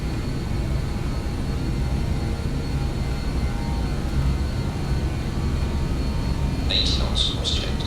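The jet engines of a BAE 146-300 airliner on a winter departure roar at takeoff thrust as a loud, steady, dense rush. A few faint high beeping tones cut through near the end.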